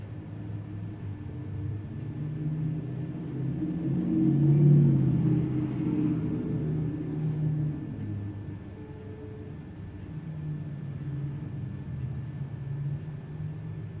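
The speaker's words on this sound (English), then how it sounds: "there's people out there, noisy cars outside" Low rumbling traffic noise of cars passing outside a building, a steady muffled drone that swells briefly in the middle, heard from indoors with no talk.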